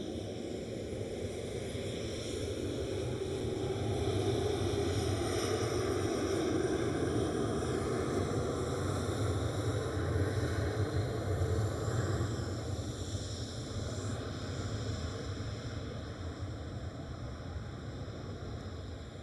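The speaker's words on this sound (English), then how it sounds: "the KLM 787 departing" KLM Boeing 787 departing Amsterdam Schiphol, a sustained low jet rumble that swells through the middle and then slowly eases, heard from a distance with some wind.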